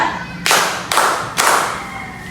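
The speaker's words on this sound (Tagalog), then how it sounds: "Bigyan natin ng tatlong palakpak si Aliana." Schoolchildren in a classroom clap in unison three times, each clap a sharp group burst spaced about half a second apart, fairly close and ringing briefly before the next.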